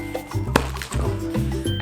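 A latex balloon being twisted into a balloon sculpture gives short rubbery squeaks, several close, fairly loud squeals in uneven bursts with brief pauses between them.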